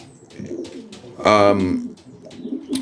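Racing and stock pigeons in a loft give a single throaty, rolling coo that stands out briefly against soft background rustling and faint murmurs.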